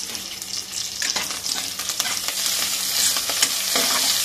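Curry leaves sizzle and crackle in hot oil while being stirred for Kerala Onam sadya cooking, a steady close hiss with scraping stir strokes and popping throughout.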